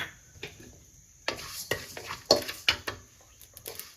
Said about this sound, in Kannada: ಆಮೇಲೆ ಜೀರಿಗೆನ ಹುರ್ಕೊಳ್ಳಿ.